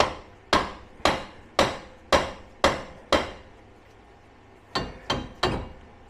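Hammer strikes on the rear hub of a 2023 Polaris Ranger Crew during a rear shaft replacement, six sharp metallic taps in steady rhythm, a pause, then three quicker taps, close and alone.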